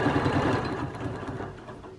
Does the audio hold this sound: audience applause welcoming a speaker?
no